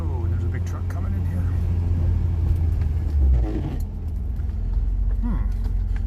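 Fiat X1/9 sports car cruising around the block, a steady low engine rumble close up from inside the cabin, with a brief swell in the middle as it accelerates; someone talks over it.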